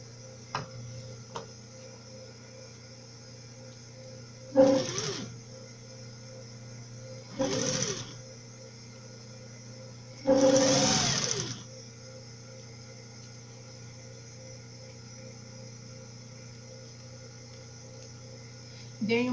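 Sewing machine stitching smooth plastic on a bag organizer, heard as three short, fairly loud bursts of stitching separated by pauses over a steady background hum.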